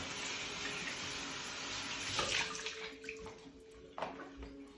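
Running water splashes and gurgles steadily while equipment is rinsed for home beer brewing, with faint clinks and knocks over the flow.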